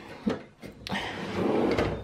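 New kitchen drawers in a renovated kitchen sliding open and shut, giving a few distinct thuds and a rolling slide on their runners, close by and fairly quiet, with a longer rumbling glide near the end.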